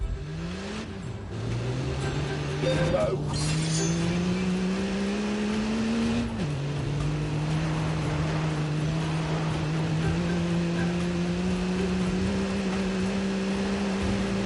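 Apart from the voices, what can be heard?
car engine revving in The Grand Tour video game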